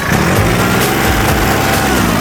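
Engine of a used 2008 Kubota L3408DT tractor running steadily, a loud continuous close-up drone with no talking over it.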